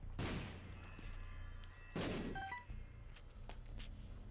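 Two separate bomb blasts in The Binding of Isaac: Afterbirth, each a sharp burst followed by a short decay, about two seconds apart, with small game chimes and effects in between.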